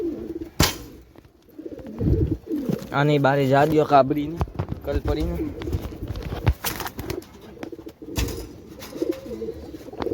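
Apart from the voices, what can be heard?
pigeons cooing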